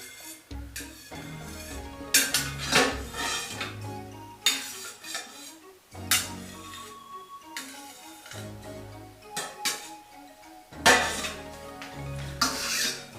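A knife cutting cheese curd in a metal pot while making Pyrénées-style cheese with green peppercorns produces a series of clinks, scrapes and knocks against the pot in irregular bursts, close and fairly loud.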